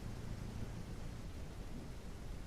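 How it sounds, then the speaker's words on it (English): Steady rain pours down in the Ranch Simulator video game, a dense, even wash of noise with a low rumble underneath, constant and fairly quiet throughout with no voices. "I can't even hear the engines because of the rain."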